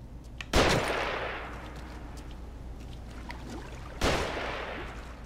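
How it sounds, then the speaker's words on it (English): Gunfire in the video game The Evil Within: two loud, booming shots about three and a half seconds apart, each followed by a long echoing decay over a low background rumble. "Find cover. They're shooting."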